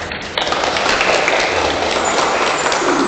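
A church congregation breaks into applause, a dense patter of many hands clapping that starts abruptly and continues steadily at a fairly loud level in an indoor hall.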